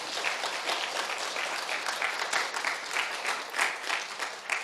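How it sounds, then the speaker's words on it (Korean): A congregation claps at a Korean church service, a sustained round of applause that holds steady with a few stronger swells and no voice over it. "박수 한번 쳐줘봐요."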